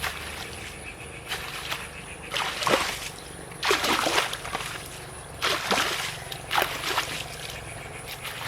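Rainwater rushing out through an opened sluice in a farm field, with a continuous close wash of flowing water and repeated louder splashing surges.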